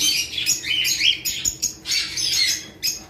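A pair of white-faced pied cockatiels takes flight, giving a run of loud, close, harsh squawks and chirps in quick bursts separated by short pauses.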